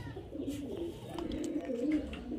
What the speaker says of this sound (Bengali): এই পায়রা দুটো কিন্তু খুব হাই ফ্লায়ার পায়রা